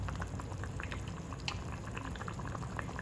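Chicken gravy seasoned with garam masala boils in a pot, giving a faint, steady bubbling and popping that continues throughout with no talking.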